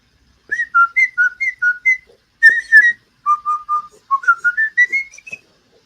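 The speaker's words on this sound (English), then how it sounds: "Whistling into the mic like a good person." A person whistles a short, bright, lilting tune directly into a microphone, giving several quick phrases of rising and falling notes against a silent background.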